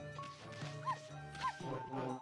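A dog in the video game Okami gives a few short yips and barks over soft game music, with a voice talking quietly at times.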